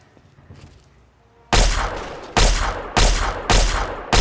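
Gunfire from a weapon in Fallout 3 at Wheaton Armory: after a quiet stretch, five loud, heavy shots ring out in a steady rhythm, each one close and booming with a decaying tail.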